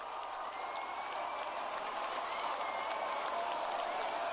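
A basketball crowd at a New Trier versus Maine South high school game applauds and cheers steadily, a dense wash of clapping and voices that holds at a constant level from start to finish.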